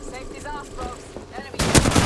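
Sudden loud burst of automatic gunfire in the Apex Legends video game, erupting in the last half second after quieter game sounds and a voice speaking.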